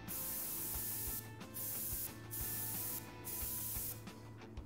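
Aerosol spraying in the Prison Simulator game as a correctional officer sprays something down: four hissing bursts of about half a second each, evenly spaced and loud, over a steady low game hum.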